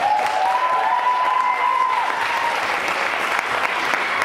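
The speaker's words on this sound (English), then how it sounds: "let's give them a big round of applause." Sustained audience applause for performers at a celebration of unity and song, dense continuous clapping that fills the room, with a brief voice at the start.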